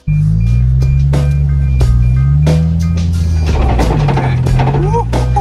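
A modified Gambler 500 car built to look like a video game car, driven on the ground to find where it rubs: loud close engine drone with shifting revs and bumps and knocks, with people talking over it.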